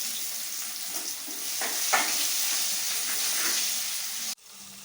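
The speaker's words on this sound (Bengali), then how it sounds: "এবার আমি একটু পেঁয়াজগুলো দিয়ে দেবো ভাজতে" Onions sizzle and hiss steadily in hot oil with whole spices and cumin, a continuous close frying crackle that cuts off abruptly near the end, with no voices.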